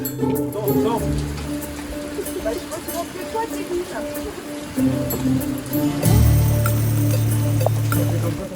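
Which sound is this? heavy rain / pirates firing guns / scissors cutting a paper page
heavy rain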